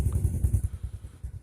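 A Honda Supra X 125 FI motorcycle with a Tsugi Daeng4sai exhaust and freshly replaced glasswool packing idles close by, giving a deep, rapidly pulsing exhaust burble with a few slight surges, loud and alone.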